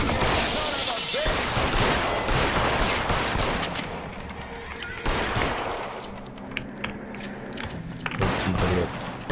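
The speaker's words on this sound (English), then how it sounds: "Да откуда ж вы там стреляете?" Gunfire in the L.A. Noire video game, a dense close-up fusillade of rapid shots and bursts that thins out into scattered single cracks and thumps later on.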